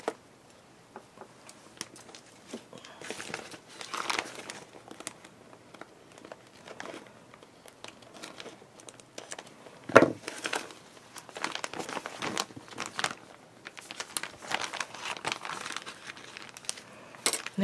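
Scissors trimming a plastic journal cover, giving irregular crinkling, snipping and rustling sounds up close, with a sharper clack about midway.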